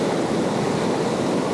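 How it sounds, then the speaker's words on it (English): Grade 2 to 3 white water rapids rush over rocks in a river, a loud, constant broadband roar of churning water heard close, with no voices. "A bit further downstream we've got a bit more white water."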